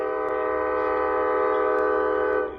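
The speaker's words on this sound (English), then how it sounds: "Oh, I love that horn." A Long Island Rail Road train horn, pulled by an EMD DE30AC locomotive at Mastic-Shirley station, blares one loud sustained chord-like blast for over two seconds before cutting off abruptly.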